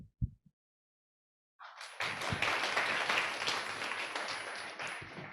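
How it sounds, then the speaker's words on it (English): Audience applause for a moderator and speakers at a meeting swells after a brief pause, a steady wash of many hands clapping that holds for several seconds, fairly loud and close. "Please everyone give a round of applause again to our moderator and speakers."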